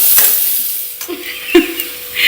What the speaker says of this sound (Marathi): आणि आता प्रॉपर कांदा परतून घेऊया.